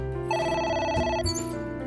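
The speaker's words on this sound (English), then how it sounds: "The phone rang." A telephone rings in the video game AI: The Somnium Files, its electronic two-tone trill sounding loud and steady over a constant background music bed, with no voices.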